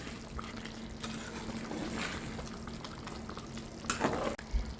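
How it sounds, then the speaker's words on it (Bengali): Chicken korma curry, thickened and with ketchup and nutmeg powder just added, being stirred in a pan, giving soft wet swishing and bubbling, fairly quiet, with a couple of louder clinks near the end and no talking. "এবার একটু ভালো মতো নাড়িয়ে দেব।"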